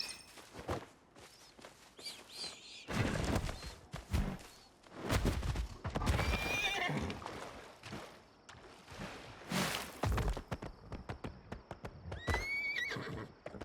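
A horse in the video game Palia neighs and whinnies repeatedly over steady clip-clopping hooves, fairly close and loud, with game sounds mixed in.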